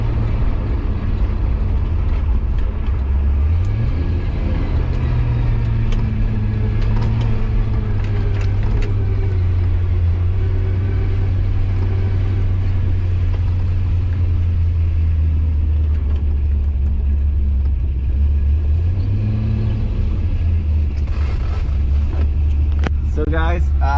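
Big-turbo LS-swapped C4 Corvette engine droning loudly while driving, revs rising around five seconds and again near nineteen seconds, with a steady low rumble throughout and brief speech mixed in.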